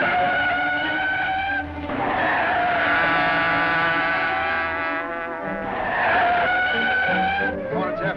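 Tires squeal in long, loud screeches as a car skids around corners during a chase, two sustained squeals separated by a short gap, with engine noise beneath.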